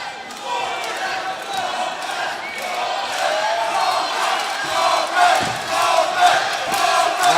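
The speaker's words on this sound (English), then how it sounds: "Listen to the crowd in York Hall calling Konrad STEMPKOWSKI's name." Boxing crowd inside York Hall at a professional bout, a dense steady roar of many voices rising in bursts toward the end as fans chant and cheer a fighter's name, filling the hall without a break.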